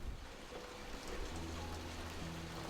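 Heavy rain pours down steadily on town streets with water running through them, a dense continuous hiss of water with a low rumble underneath and no voices.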